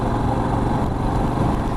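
A Royal Enfield Himalayan motorcycle engine runs steadily at close range, a loud, even low thumping drone with no voices over it.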